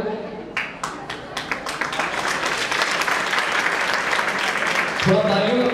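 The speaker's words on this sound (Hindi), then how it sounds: "थोड़ा तालियों में पावर लाइए" At an opening ceremony for a competitive-exam coaching school, the audience starts with a few scattered claps that swell into dense, sustained applause, and a speaker's voice comes in over it at the end.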